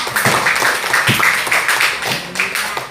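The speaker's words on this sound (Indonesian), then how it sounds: "Oke, tepuk tangan." A classroom of children clapping their hands together, a brisk, uneven patter of claps with a few sharper slaps, close and fairly loud.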